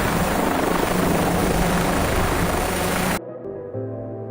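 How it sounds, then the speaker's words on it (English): A helicopter landing on snow roars with dense, loud rotor and engine noise, close and steady, then drops abruptly to a much quieter low hum. "A helicopter landed on the snow. The rotors stirred up the snow."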